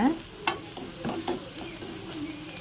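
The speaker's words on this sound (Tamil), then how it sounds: "சேர்த்துட்டு கொஞ்சம் அந்த பச்சை வாடை போகிற அளவுக்கு வதக்கிக்கோங்க" Ground masala for chow chow kootu is sautéed in a pan, with a close, steady sizzle and fry and a few sharp scrapes and stirring clicks of a spoon, no talk.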